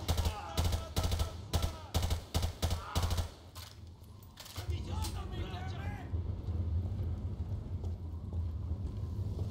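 Gunfire in Call of Duty Modern Warfare 2: rapid, loud bursts of shots for the first few seconds, then a rumbling battle bed with a voice talking over it.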